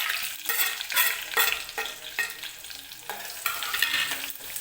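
A coconut, ginger, garlic and coriander paste stirred into a hot pan, a close steady sizzle with rhythmic scraping strokes of a spoon every half second or so, no voices.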